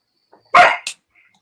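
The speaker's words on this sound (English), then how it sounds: "The dog is barking." A single dog bark from a movie scene, one short sharp burst followed by a quick second yelp, fairly close and alone against near silence.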